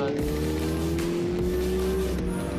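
Kawasaki Ninja heavy motorcycle speeding along a Karachi race track, a loud, sustained engine whine rising steadily in pitch over low rumbling from other machines, with no voices.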